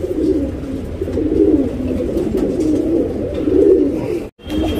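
A male Sabja pigeon coos loudly and close, a continuous rolling series of throaty coos with no talk.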